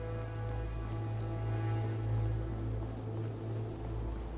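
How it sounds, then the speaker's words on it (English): Rain patters steadily on a glass roof in the video game Fallout 4, a constant soft wash of drops over a low background hum. "Hope this rain lets up soon."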